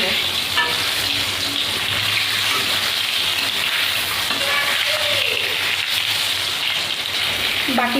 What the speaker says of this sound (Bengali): বাকি পটলগুলোও দিয়ে দিয়েছি,